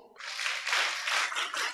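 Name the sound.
children clapping at Sunday school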